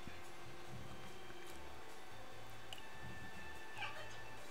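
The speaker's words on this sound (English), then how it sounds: "Oh, it's just a cat, huh?" A cat meows from inside a box in the Nekopara video game, a short, fairly faint meow heard over a quiet low background hum.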